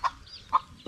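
Small chicks peeping in a farmyard, three short bright chirps spaced about half a second apart, close and fairly clear over a quiet background.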